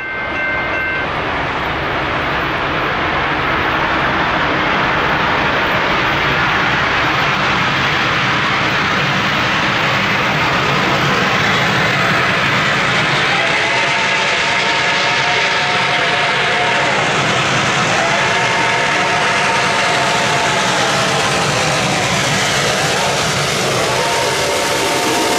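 Reading & Northern 425 freight train rolling past through the anthracite region in fall, a loud steady rumble of wagons and wheels lasting throughout, with horn-like tonal bands sounding briefly in the latter half.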